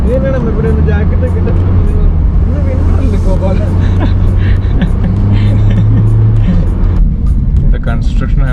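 A car drives along a road near Brampton, Canada, with a steady low engine and road rumble inside the cabin, loud and close, while people talk over it throughout.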